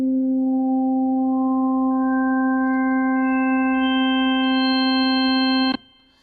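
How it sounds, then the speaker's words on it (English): A steady synthesized sine tone held for nearly six seconds as higher harmonics are added one after another, building a brighter, richer organ-like note before it cuts off abruptly. "that is sort of a straight sine wave, and then I can add harmonics to that."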